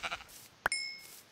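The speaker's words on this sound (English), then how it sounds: "Sheep! We could kill sheep." Minecraft sheep giving a short synthetic bleat after a few quieter game sounds, followed by a sharp click and a thin ringing tone that trails off.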